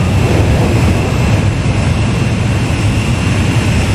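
A jet fighter engine roars loud and constant while closing on an aerial refueling craft in the Ace Combat 5 video game, a dense, unbroken rushing drone.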